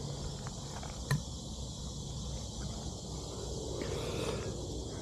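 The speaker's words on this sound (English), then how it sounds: "of cicadas and just crickets and all of that." Crickets and cicadas chirping in the gardens of a South Carolina nature walk, a steady, fairly faint high insect drone that continues throughout with no one talking.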